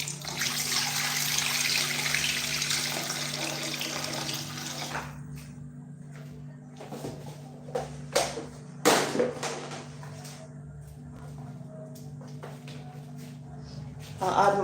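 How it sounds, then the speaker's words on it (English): Water pours steadily into a cooking pot of jollof rice for about five seconds, then stops, leaving a quieter kitchen with a few clinks and knocks. "So I'll just add water."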